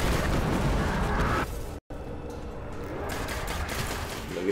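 Sustained, rapid automatic fire from the Suros Regime exotic auto rifle in the Destiny video game: a dense, loud stream of shots that cuts out briefly before resuming steadily, with no voices.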